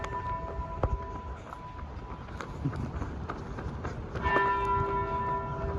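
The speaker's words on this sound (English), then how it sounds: "I hear the bells." Church bells ring faintly at a distance near a parking lot, with a few soft strikes and lingering tones. The sound swells a little toward the end under steady outdoor ambience.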